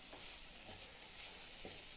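Chili powder fries in a tempering pan for bitter gourd gojju, giving a soft continuous sizzle with faint stirring taps, quiet and close.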